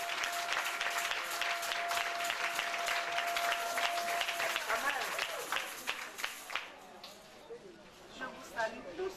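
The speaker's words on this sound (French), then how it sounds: "J'aimerais qu'on acclame le Seigneur." Audience at a Christian Aglow conference in Togo applauding the Lord, dense sustained clapping with cheers that thins into scattered claps toward the end, and voices audible within it.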